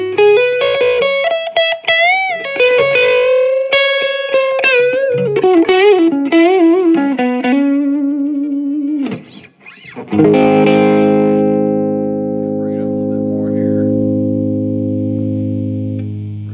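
An electric guitar through a Vox Night Train 15 watt tube amp plays a run of quick, bending, overdriven single notes, then a short pause, then a full chord left to ring out and sustain.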